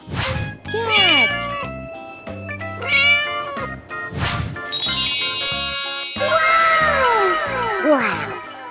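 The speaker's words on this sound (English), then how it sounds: "Cat." A cat meows several times in clear, close calls mixed with bright ringing chime tones, like a game sound effect among farm animal noises.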